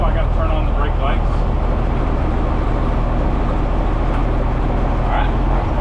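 A car pulls away on its first drive, with steady loud engine rumble and road noise throughout and faint voice traces underneath.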